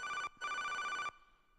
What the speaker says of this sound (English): He made the phone sound as well.